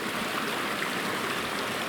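Mountain creek, Scepter Creek, flowing steadily beside a meadow trail, a continuous close broadband rush of water with no pauses or voices.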